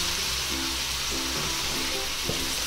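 Green and red chilies sizzle and fry in a hot pan with onions for cabbage rolls, a steady close hiss with faint clinks of a utensil stirring.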